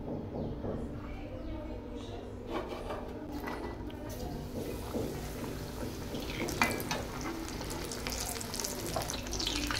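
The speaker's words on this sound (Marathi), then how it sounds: "आता हा पण ब्रेड मस्त मी लालसर तळून घेते।" Bread pakora, soaked bread in batter, frying in hot oil until reddish, giving a steady close sizzle with small crackles throughout; a few faint clinks occur, with no clear talk.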